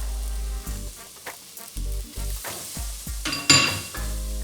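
Ginger, garlic and delicate spices sizzle and fry in a pan for red lentil dhal, with a steady close crackle broken by intermittent stirring scrapes and a brief metallic clink near the end.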